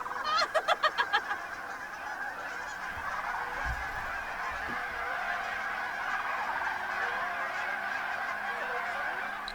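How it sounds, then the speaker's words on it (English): Hundreds of Canada geese and sandhill cranes call together out on the prairie, a dense, continuous chorus of honking. A loud run of rhythmic honks comes near the start, then the flock clamours steadily. "hundreds of Canada geese, hundreds of sandhill cranes"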